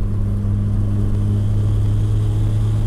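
Mazda RX-7 SA22C with a swapped 13B rotary engine making about 400 horsepower, driving on a public road: a steady, loud, buzzing rotary drone holding an even pitch from inside the car.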